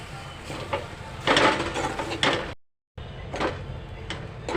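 A spatula scrapes and stirs roasted grated coconut and onion in a wok for a Malvani masala paste, making rough, loud bursts of scraping separated by a brief silent gap.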